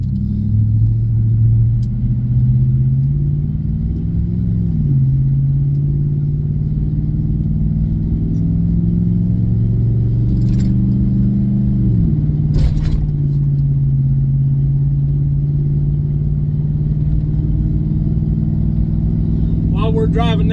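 A truck cruises down the road with a continuous loud engine rumble from inside the cab. The pitch climbs and drops at a few points as it shifts, and brief clicks and knocks sound near the end.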